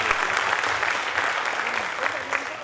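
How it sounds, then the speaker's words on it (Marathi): An audience at a stage gathering breaks into dense, steady applause, many hands clapping close together at an even loudness for the whole stretch without letting up. "टाळ्या वाजवा त्यांच्यासाठी एकदा."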